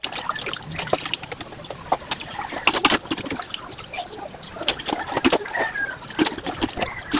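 Water being siphoned out of a home fish tank during a partial water change, a continuous close splashing and gurgling trickle with irregular sloshes throughout.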